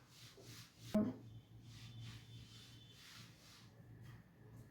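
A sharp knock is followed by soft, repeated rubbing strokes as writing is erased from a classroom board during a maths lecture, faint and steady under a low room hum.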